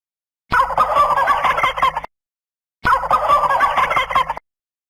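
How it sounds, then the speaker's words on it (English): A turkey gobbles twice, each a loud, rapid, rattling burst of about a second and a half, separated by clean silence. "What, this animal? Turkey."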